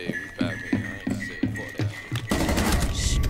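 Rapid gunshots in a video game, a run of sharp evenly spaced cracks followed by a denser, louder burst of sustained fire at the end, with no talking.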